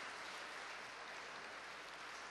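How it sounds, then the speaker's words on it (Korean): An audience at a commemoration ceremony applauding, a dense, even wash of many hands clapping at steady loudness throughout, heard from a distance. "문재인 이사장님께 다시 한번 따뜻한 박수 부탁드립니다."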